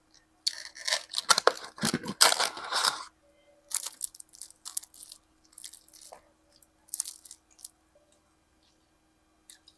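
A Jollibee tuna pie being bitten and chewed up close: loud, crisp crunches in a dense cluster at first, then several shorter crunchy bites separated by quiet gaps.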